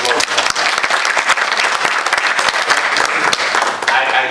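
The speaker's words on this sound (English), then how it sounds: "Another round of applause." Dense, steady applause from an expo audience, many hands clapping together in a continuous close wash with sharp individual claps standing out, with no talk over it.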